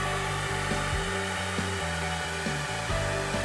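A heat gun blows a steady, loud hot-air roar while heating vinyl wrap in a deep channel, with small bumps and shifts in tone as it moves.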